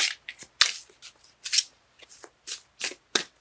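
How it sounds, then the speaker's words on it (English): Tarot cards being shuffled by hand, a run of crisp riffling bursts and soft taps in irregular rhythm, close and fairly quiet with no talking. "Cards let me know when they're done shuffling."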